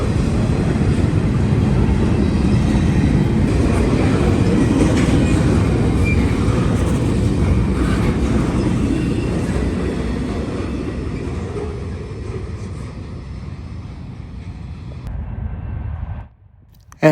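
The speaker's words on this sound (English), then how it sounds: "NS westbound train 171 flies through London on a cold evening" A Norfolk Southern westbound freight train led by a white-faced Dash 9, a GEVO and a GP38-2 roars steadily past at close range on a cold evening, its loud rumble slowly easing as the cars roll by before cutting off abruptly.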